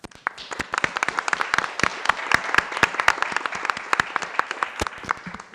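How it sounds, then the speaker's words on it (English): Audience applause at a JuliaCon HPC panel discussion: scattered individual claps, fairly close and distinct, spread unevenly over a soft wash of clapping from a modest crowd, steady throughout with no voices. "So first of all, a big applause to everyone."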